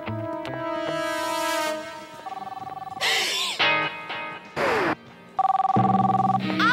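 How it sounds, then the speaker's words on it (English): A cartoon telephone rings in bursts of bright, repeated bell tones, broken up by short crashes and other sound effects, with voices speaking between the rings. "Answer the phone."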